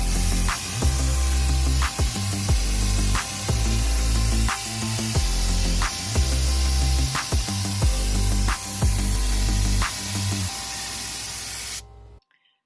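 A paint sprayer hisses in rhythmic bursts as it applies Valspar One Coat exterior stain to wood boards, steady passes with short pauses between strokes, then cuts off at the end.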